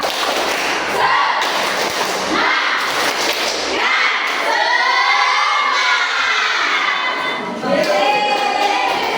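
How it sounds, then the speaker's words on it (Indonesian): A classroom performs the tepuk semangat spirit clapping chant, with rhythmic group claps and chanted voices mixed with loud crowd noise that runs continuously at close range. "Kita akan melakukan STP tepuk semangat."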